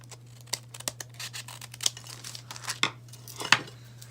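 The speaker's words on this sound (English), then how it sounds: "So I'm just going to trim the sides here." Scissors snip and crinkle through craft packaging around swan decorations in quick irregular cuts, close up, over a low steady hum.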